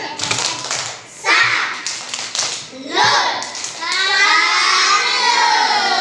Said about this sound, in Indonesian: Ayo tepuk salut.